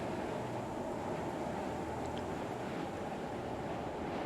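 Steady engine hum from the Argo Mole mining ship in Star Citizen, a continuous broad rumbling drone with airy wind-like noise, constant and even in level throughout.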